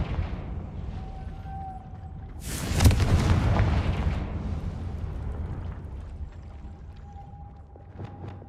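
Confringo spell explosion in the Hogwarts Legacy video game, a single loud booming blast that bursts in suddenly, then rumbles and fades slowly into a quiet ambient background.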